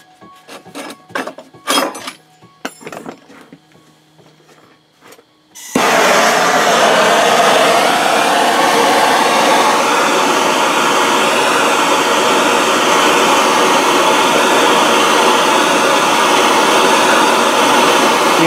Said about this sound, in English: See the color of the solder on the steel as it's heating up.